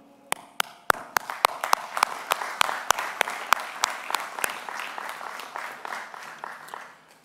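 An audience at a 2021 senior high school graduation applauds the graduating seniors, beginning with a few sharp separate claps and quickly swelling into steady, dense clapping that carries on and slowly thins toward the end.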